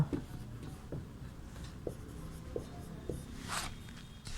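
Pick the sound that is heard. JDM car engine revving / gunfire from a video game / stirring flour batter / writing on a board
writing on a board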